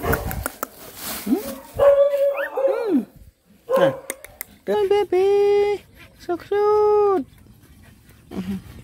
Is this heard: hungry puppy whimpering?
yes